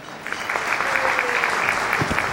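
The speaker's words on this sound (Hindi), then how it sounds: "सो प्लीज एक बार ऑडिटर के लिए तालियां हो जाए" An audience in a hotel ballroom at a brand launch event applauds to welcome the Oditer company, a dense steady clapping wash lasting the whole moment.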